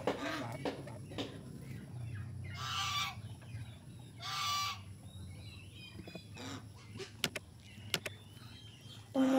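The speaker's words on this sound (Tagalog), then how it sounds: "So, ayan nga pala yung mga ganso at gansa namin." Several geese honk and cackle in loud bursts on a farm, with softer clucking and scattered chatter from other fowl, including turkeys, nearby.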